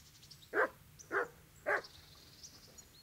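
A butcher's dog gives three short, sharp barks in an even rhythm, each clear and fairly close, with quiet background noise between them.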